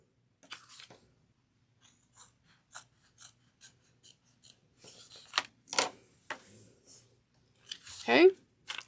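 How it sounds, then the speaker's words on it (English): Scissors trim the edge of a sewn fabric zip pouch in a quiet room, a series of crisp, evenly spaced snips up close that grow busier toward the end, with a voice speaking in between. "You're just basically kind of just trimming off the little wing."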